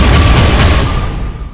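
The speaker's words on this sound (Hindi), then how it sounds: "पीछे आप लगातार देख सकते हैं तोप और टैंक के धमाके की आवाज आ रही है।" Heavy artillery and tank fire booms during a morning attack in the Israel conflict, a loud, dense rumble with repeated blasts that slowly dies away. No speech is heard over it.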